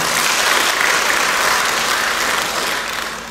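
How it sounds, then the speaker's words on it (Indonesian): Sustained applause from an audience in a hall at an Indonesian government swearing-in ceremony for functional officials, steady dense clapping throughout that fades slightly at the end. "Tepuk tangan buat semua"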